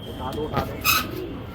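Kali chap tulsi pigeons coo briefly in a loft, a few soft throaty calls close by, with a person talking over them.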